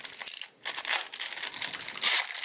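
Small plastic bags from an outdoor emergency survival kit crinkle and crumple as they are handled close up, a dense, continuous rustle with one brief pause.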